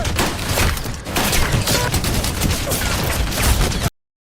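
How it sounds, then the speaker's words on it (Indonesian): Gunfire from Albanian militants in a film scene rings out as a dense, continuous fusillade of overlapping shots, loud and harsh, stopping abruptly near the end. "salah satu tembakan militan Albania mengenai Vera"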